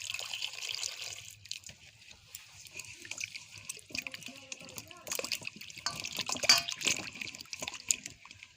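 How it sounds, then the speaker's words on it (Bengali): Carrots for gajar halwa are rinsed under running water in a village kitchen, a steady splashing trickle with rising bursts of pouring and dripping, close and moderately loud. "এবার আমি গাজরটা জল দিয়ে ধুয়ে নেব।"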